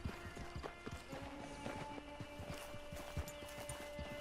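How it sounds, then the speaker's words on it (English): Horse hooves clip-clopping in the video game Red Dead Online, a steady run of hoofbeats under game music and ambience, moderately loud throughout. "Hit your horse."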